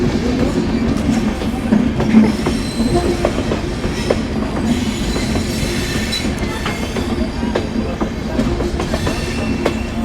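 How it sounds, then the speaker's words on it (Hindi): A train rumbles steadily past close by at a station crossing, with continuous clattering wheels, metallic clicks and brief squeals through the whole stretch, loud and unbroken, with no talk. "ट्रेन जा चुकी है"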